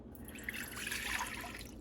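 Water poured from a container into a small pot on a kitchen stove, a faint, steady splashing trickle lasting under two seconds with no voices over it.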